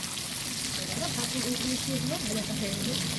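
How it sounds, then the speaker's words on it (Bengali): Potatoes fry in hot oil for chicken biryani, a steady, dense sizzle that fills the clip evenly from start to finish, with faint kitchen noise underneath. "এবার তেলে আলু ছাড়া হয়েছে, এবার আলুগুলো ভাজা হবে"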